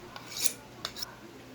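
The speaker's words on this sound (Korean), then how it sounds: "회를 썰어 주시기 위해서 칼을 갈아주고 계십니다." A kitchen knife is sharpened at home before slicing wild mackerel sashimi, giving a few quick, faint metallic scraping strokes against a quiet background.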